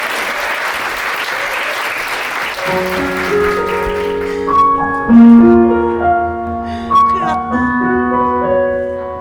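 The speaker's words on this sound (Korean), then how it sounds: "뜨거운 박수로 맞아주시기 바랍니다." Wedding guests in a hotel ceremony hall applaud loudly for the congratulatory song; the clapping runs alone for a few seconds, then continues under an instrumental accompaniment that begins partway through.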